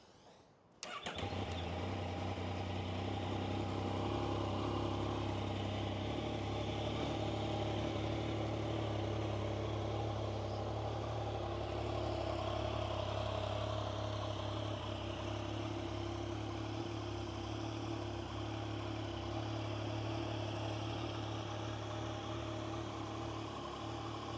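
A 2016 Yamaha MT-09 Tracer motorcycle with about 15,578 km cranks and catches after a brief silence, then settles into a steady, rumbling idle that continues evenly throughout.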